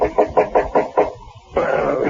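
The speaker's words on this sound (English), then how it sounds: "someone knocked on my door" A knock on a cabin door aboard a ship in a 1970s radio mystery drama: five firm, evenly spaced knocks heard close, followed by a brief pause and then continuing sound.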